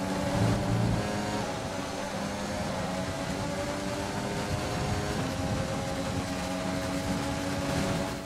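F1 2020 race car in a video game, its engine held at full throttle in a steady high-pitched drone that holds level for the whole stretch with no speech over it.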